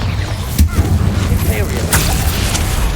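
Bombarda spell explosions from Hogwarts Legacy on PS5: sharp booming blasts strike twice amid ongoing combat noise, with voices shouting over the action.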